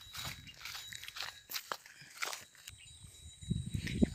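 An animal tied to a tree crops and chews grass in a field, giving soft, irregular tearing and crunching bites close by. Rustling movement comes and goes, and the bites grow louder toward the end.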